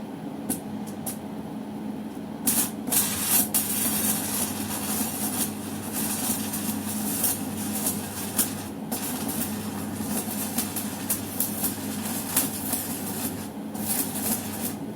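Arc welding at 150 amps with CL11 electrodes, a continuous crackling, sizzling hiss with a steady hum underneath, close and fairly loud, with brief pops and breaks in the arc.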